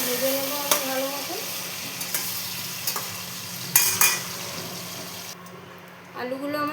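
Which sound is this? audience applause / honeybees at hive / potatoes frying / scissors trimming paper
potatoes frying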